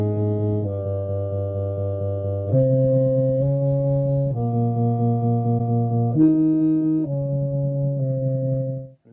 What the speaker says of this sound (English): Tremolo sounds like this.